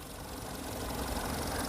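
A 2016 Volkswagen Vento 1.6 Highline Plus petrol engine idles at a steady, even rumble that swells slightly toward the end, with no voices over it.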